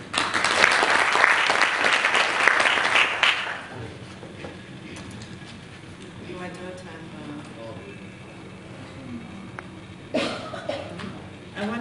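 An audience at a peace panel on women promoting peace breaks into loud clapping for a speaker. The applause lasts about three seconds and then fades, low talk follows, and a short burst of clapping returns near the end.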